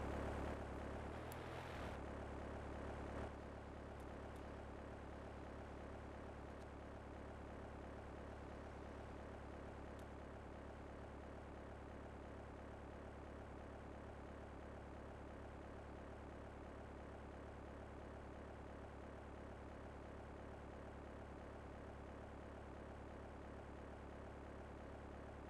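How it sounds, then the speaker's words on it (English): An airplane arrives in the video game Grand Theft Auto III as a steady, loud propeller engine drone that holds for the full length, with a brief burst of other game noise at the start and no talking. "just wait for the plane to arrive"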